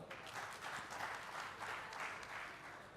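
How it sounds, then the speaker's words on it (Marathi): An audience at a November 2022 meeting on silk farming claps steadily for about three seconds, a dense, even wash of applause with no pauses and no talk over it. "त्याबद्दल सर्वांनी त्यांचं टाळ्या वाजवून स्वागत केलं"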